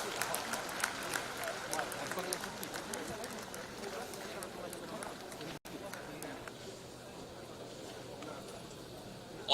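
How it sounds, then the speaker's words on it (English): Applause at a felicitation ceremony honouring former chief justices and judges, a crowd clapping steadily at moderate distance with a voice speaking over it, the clapping thinning after a brief cut. "I would request everyone to give a big round of applause."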